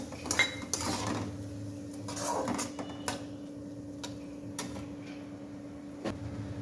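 Golden fried onions and yogurt stirred together in a metal pan, a spoon scraping and clinking against the sides in irregular taps, fairly close and moderately loud, with a steady background hum.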